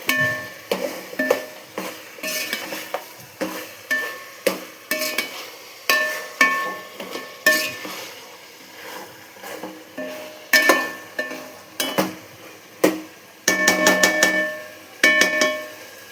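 Chicken pieces stirred into a pot of fried ingredients for chicken biryani, with repeated sharp spoon scrapes and clinks against the metal in an uneven rhythm, close and fairly loud with no talk.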